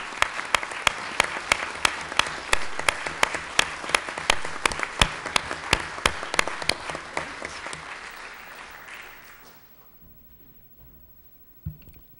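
A council meeting audience claps with sharp, distinct claps over a dense patter that fades out over about nine seconds, followed by near silence and a faint thump.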